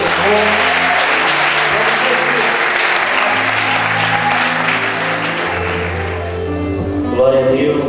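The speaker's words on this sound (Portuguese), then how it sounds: "Aplauda o nome do Senhor." Church congregation applauding in a loud, sustained burst of many hands, with sustained musical tones beneath that fade near the end.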